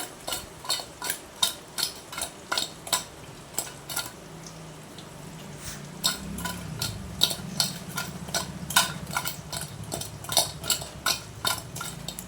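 Fish pieces for a fish fry are stirred in a pan, with a steady run of sharp utensil clicks and scrapes against the metal over a low background sizzle; no voices.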